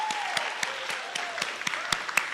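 An audience claps at a high school National Honor Society senior reception, a close, steady burst of many hands with distinct individual claps popping out, while a faint voice or whistle-like tone drifts beneath.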